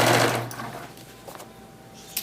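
A sewing machine stitching binding around a quilt edge a quarter inch in, a steady motor whir loudest at the start and easing off, with a faint click near the end.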